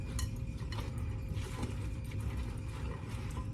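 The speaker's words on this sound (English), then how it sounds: "now you are going to mix that all together" Dundee muffin batter with whisky and dried fruit being mixed in a small container, giving a steady close scraping and clinking of a utensil against the bowl with continuous soft rustle throughout.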